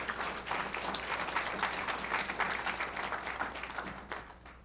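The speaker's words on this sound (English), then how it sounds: "So a big round of applause for our sponsors." Audience applause for event sponsors at an acromegaly community gathering, a dense steady wash of many hands clapping at moderate distance, holding for several seconds and tapering slightly at the end, with no voices over it.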